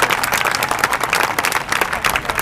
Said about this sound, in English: Let's get one more round of applause for Lieutenant Colonel Fishdad.